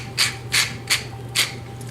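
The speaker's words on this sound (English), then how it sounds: "A few grinds of good fresh ground black pepper." Fresh black pepper is ground over potatoes with a pepper mill in four short, close, gritty grinding bursts.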